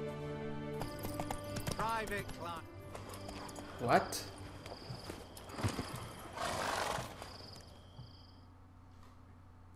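In The Witcher 3, a horse's hooves clop and it whinnies over background game music, with someone speaking and in-game voices heard across the clip.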